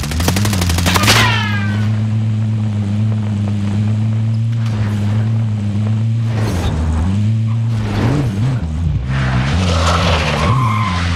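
A vehicle in the video game Call of Duty: Warzone drives with a steady engine drone, its tires skidding and squealing loudly across several seconds, with a few sharp game effects over the top.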